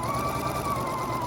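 A sewing machine runs steadily while stitching a quarter-inch quilt seam, a continuous close motor whir with a mechanical needle rattle, heard alone with no voices.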